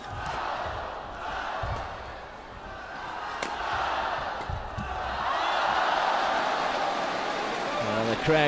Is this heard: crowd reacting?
yes